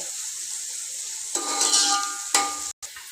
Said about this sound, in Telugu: దాకా కలుపుకుంటూనే ఉండాలి ఉల్లిగడ్డలు మగ్గాలి